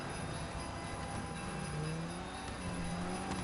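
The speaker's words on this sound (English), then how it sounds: "It sounds like it's honking its horn." A Christmas delivery truck in GTA Online sounds long, wavering horn blasts over a steady rumbling engine and road noise, fairly close, with no voices.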